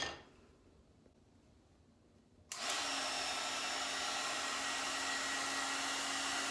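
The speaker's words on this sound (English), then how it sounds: "I'm going to work on this one starting first with the blow dryer" A no-name brand brush hair dryer switches on abruptly after a quiet stretch and then blows with a steady, loud, close whirring hiss as it dries hair.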